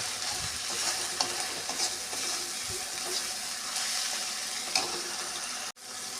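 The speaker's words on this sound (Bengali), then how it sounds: "মশলাটা কষানো হয়ে গেছে" Spice paste frying in a pan for a spicy bhola fish curry with taro stems, a steady close sizzle with occasional stirring scrapes, cutting off abruptly near the end.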